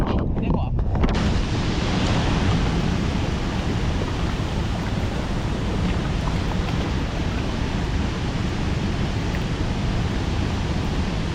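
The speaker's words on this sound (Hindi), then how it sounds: "100 फीट की हाइट से गिर रहा है पानी और टोटल 300 मीटर्स का विड्थ है।" The Chitrakote waterfall on the Indravati river, about 100 feet high and 300 metres wide, roars as a loud, continuous broadband rush of falling water with no pauses.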